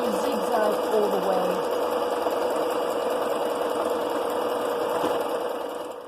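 A sewing machine runs a continuous zigzag stitch along a seam while enlarging a dress, a steady close mechanical whirr, alone, that tapers off at the very end.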